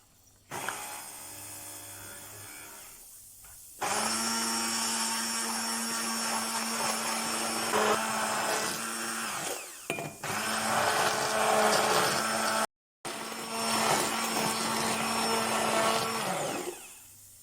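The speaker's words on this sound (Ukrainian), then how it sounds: "Перебиваємо блендером до однорідності." A blender whirs loudly in several long bursts, stopping briefly between runs, its motor whine steady and close, blending a non-alcoholic mojito with lemon and lime juice.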